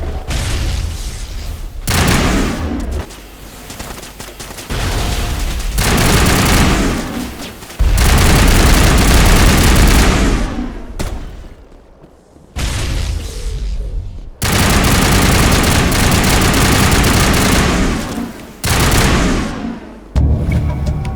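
Heavy gunfire and explosive booms fill a crossfire battle in the video game Mass Effect on Virmire, coming in loud bursts and sustained volleys with brief lulls between them.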